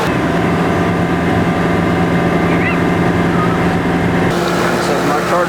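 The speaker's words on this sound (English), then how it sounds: "Now it wants me to do the RPMs of 2500 for 10 seconds." A car engine is revved and held at a steady high speed, a continuous loud hum with a constant droning pitch that shifts slightly near the end.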